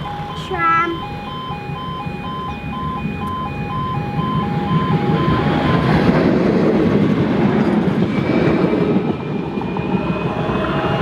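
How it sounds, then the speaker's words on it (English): A tram pulling in at a stop in Nottingham at Christmas, with a melodic chime near the start followed by a steady rising rumble of the tram arriving over a continuous background of city noise. "Tram, come in."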